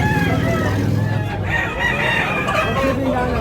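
A brief burst of rooster crowing and chicken clucking fills a busy poultry market in Tabunok, Cebu. Close crowing overlaps constant clucking against a noisy crowd backdrop.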